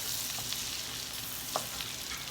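Butter sizzles and crackles steadily in a pan over low heat while balbacua is being cooked, a soft continuous frying hiss with a few faint pops and no voices.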